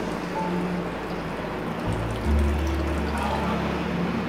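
Water pours steadily into a pan of snake gourd until covered, a continuous splashing rush that grows fuller partway through, with no talking.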